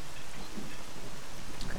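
Soft, steady rain falling in a video game set around Pripyat, a faint even patter with no clear drops standing out.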